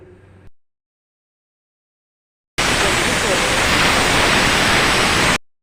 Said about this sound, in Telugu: విజిల్ పెట్టేసుకున్నానండి నేను మనకు ఒక ఫోర్ విజిల్స్ వస్తే మనకు సరిపోతుంది